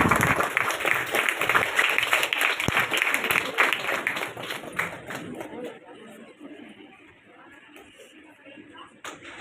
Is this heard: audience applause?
yes